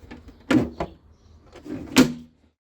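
A Mini Cooper S R53 glovebox door, refitted with small round magnets on the door and frame, shuts with two close, sharp clunks about a second and a half apart, then falls silent.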